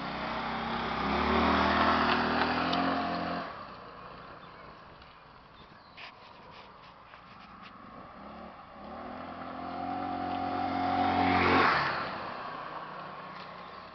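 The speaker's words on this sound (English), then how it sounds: "Show you the massive acceleration this baby has." A Wildfire Motors WFH150-D 150cc scooter accelerates twice, each run a rising engine drone that swells, peaks and fades back to a quieter idle between passes, heard at moderate distance.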